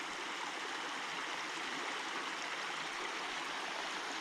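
A small mountain stream in a Carpathian autumn forest babbles and rushes continuously, a steady close wash of flowing water with no voices.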